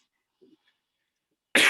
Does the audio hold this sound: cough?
yes